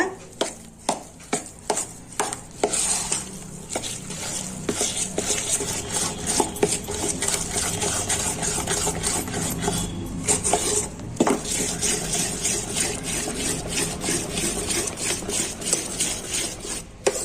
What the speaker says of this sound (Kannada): ಈಗ ಚೆನ್ನಾಗಿ ಕೈ ಆಡೋಣಂತೆ.